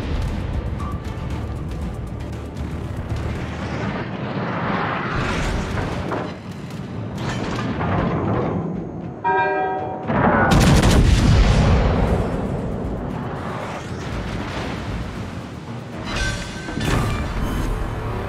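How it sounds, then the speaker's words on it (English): Heavy naval gunfire from the battleship Nelson in a video game: loud, dense booming salvos that roll on nearly without pause, with a sharper crashing burst midway. "All stations, concentrate fire on the target."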